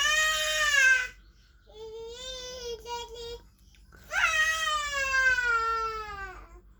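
A cat yowls close by in long, drawn-out, wavering meows: one loud cry, a softer broken one, then another long loud meow.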